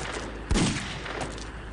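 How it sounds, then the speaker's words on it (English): Gunshot sound effect in an audiobook drama: a single sharp burst stands out over a quiet, steady background, fairly faint overall with no speech. "I shot him 4 times."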